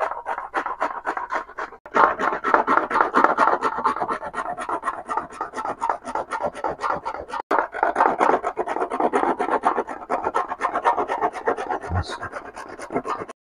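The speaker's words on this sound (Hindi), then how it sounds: "नारियल है, इसको अब हम जो है वो कद्दूकश कर लेंगे।" Coconut being grated on the fine side of a hand grater, a steady run of rapid rhythmic rasping strokes, close and fairly loud, with a brief pause partway through.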